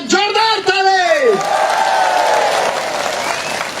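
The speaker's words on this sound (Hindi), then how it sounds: "एसीएफ के लिए एक बार जोरदार ताली" Crowd at an Arunachal Pradesh religious-freedom gathering bursts into loud, sustained applause, with a speaker's voice trailing off at the start and the clapping continuing steadily to the end.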